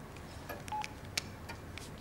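Someone dials a telephone number, producing a few short, faint keypad tones spaced irregularly over about two seconds against quiet room noise.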